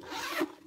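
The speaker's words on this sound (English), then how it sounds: "zips to cover everything up" A zipper on a Drake shoulder bag pulled closed in one quick, close, smooth rasping stroke, heard alone.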